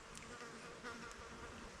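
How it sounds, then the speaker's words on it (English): Mosquitoes whine and buzz close by inside a mesh shelter during a New Zealand survival trip, a faint, continuous high insect drone with no one talking. "Bloody mosquitoes. Whining and buzzing and carrying on."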